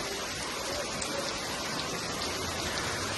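Heavy rain pours down steadily during a tornado warning, a dense, even hiss of drops with no breaks, close and loud throughout.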